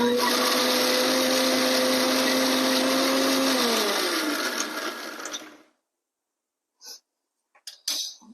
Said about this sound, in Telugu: ఇప్పుడు మనం వీటిని గ్రైండ్ చేసుకోవాలి